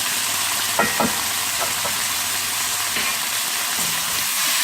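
Vegetables frying loudly with soy sauce and black pepper for a Chinese-style sweet and sour chicken, a dense steady sizzle with a few stirring knocks, close and uninterrupted by talk.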